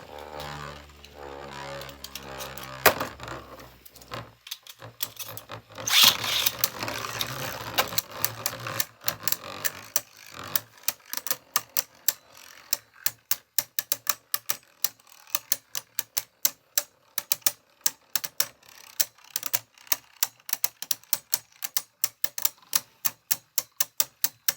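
Hazard Kerbeus and Vanish Fafnir Beyblade tops whir and spin in a stadium, an opening clatter and roar giving way to a rapid run of sharp clicking collisions that speed up toward the end.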